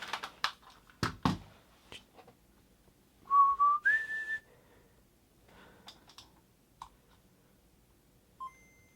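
Short electronic chiptune blips from a Game Boy Color after a no-sound repair: a quick rising two-note jingle, then sparse soft beeps, preceded by clicks and tapping.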